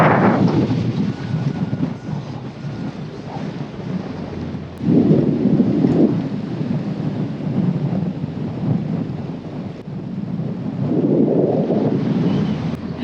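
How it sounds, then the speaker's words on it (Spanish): Strong storm wind roars and buffets around a sailboat sheltering from a three-day gale in the Bahamas. The heavy, continuous rumble swells in gusts, with no voices heard. "Tremendo lo que sopla."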